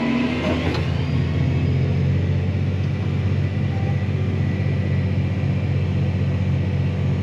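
A tractor's PTO runs at full throttle at night on a no-till field, ready for spreading, a loud, steady engine drone with a deep rumble that holds evenly throughout.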